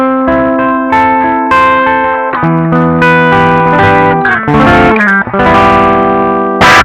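An electric guitar runs through a Fulltone OCD overdrive pedal, loud, close chords and sustained notes with a gritty, harmonically rich distortion, played alone and ringing out between strums.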